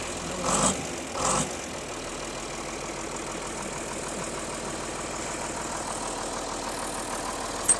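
An old dairy farm tractor engine idles with a steady, knocking, mid-to-low rumble, close and continuous, with a couple of brief louder bumps near the start.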